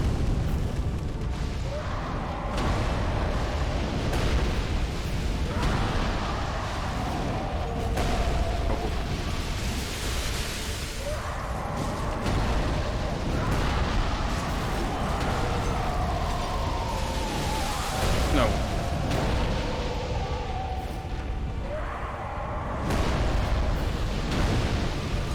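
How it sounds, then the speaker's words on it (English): Fiery explosion from the vessel carried by the Soul of Cinder, the final boss of Dark Souls 3, a loud sustained roaring boom with rumbling bursts and clashing game effects throughout, no talk. "He also has an explosion of his vessel that he's carrying."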